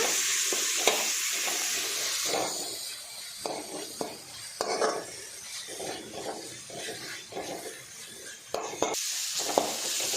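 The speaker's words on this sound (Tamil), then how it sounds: "சேர்த்துட்டு நல்லா தக்காளி பழத்தை நல்லா மிக்ஸ் பண்ணி விட்டு வதக்கி விட்டுருங்க." Tomatoes stirred and sautéed in a pan for a Tamil fish curry (meen kulambu) give off a steady close sizzle, broken by repeated scraping stirs, with no talking.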